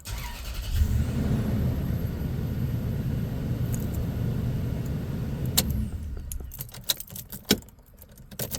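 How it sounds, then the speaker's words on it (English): First-generation Toyota Tundra truck engine cranking and catching, then settling into a steady close rumble that cuts off after several seconds, followed by a few sharp clicks and key jingles. "Let's fire up the truck."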